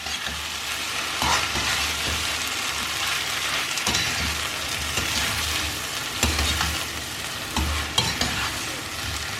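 Chopped tomatoes stir-fried in a pan for a Chinese egg stir fry, with a continuous loud sizzle and repeated scraping, clattering stirs throughout, heard up close with no talking.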